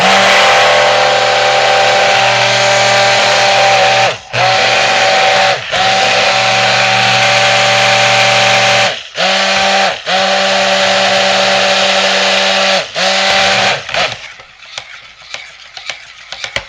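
Stick blender mixing soap oils and lye with the wand held below the oil surface, a loud, steady motor whine broken by several short pauses before it stops near the end.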